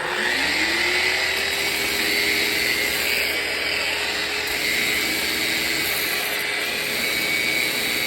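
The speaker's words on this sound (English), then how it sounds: "And we'll go ahead and start sanding." A steady, continuous whirring drone of a Festool Rotex random orbital sander on wood runs unbroken throughout, close and fairly loud, with a constant hiss.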